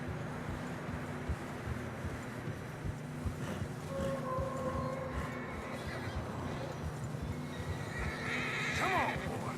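Horses trudging through deep fresh snow in Red Dead Redemption 2 whinny and neigh over a windy outdoor bed, with soft hoof sounds and faint voices in the background.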